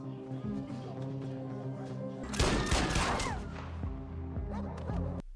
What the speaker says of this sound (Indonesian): Karena suara tembakan tadi, sekarang kekacauan pun terjadi